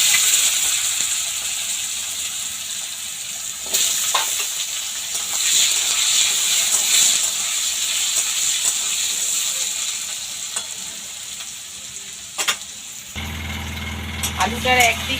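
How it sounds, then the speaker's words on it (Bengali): Potatoes sizzle in hot oil seasoned with panch phoron and dried red chillies, a loud, continuous frying hiss with occasional stirring scrapes and a brief clatter toward the end. "এবার আমি প্রথম আগে আলুটা ভেজে নেব।"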